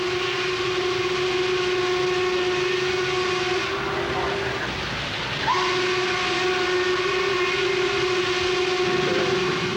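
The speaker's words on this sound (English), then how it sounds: "Just to hear the sound of that whistle" A modern coal-burning steam locomotive sounds a long, steady multi-tone whistle that carries through almost the whole stretch, breaking off briefly and resuming, over a constant background hiss and rumble of the passing train.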